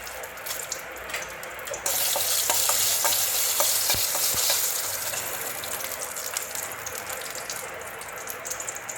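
Ground masala paste for paneer butter masala hits a hot pan and bursts into a loud sizzle, followed by repeated scraping stirs as the frying gradually settles.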